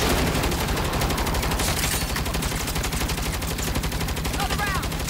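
Rapid automatic gunfire from the video game Saints Row, with dense repeated bursts of shots that continue without a break and game voices heard faintly underneath.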